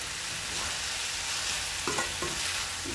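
Raw jackfruit palya is stirred and mixed in a hot pan, a continuous close frying sizzle with a few soft spoon scrapes and knocks, no voices.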